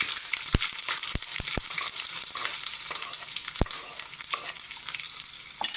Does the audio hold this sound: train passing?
no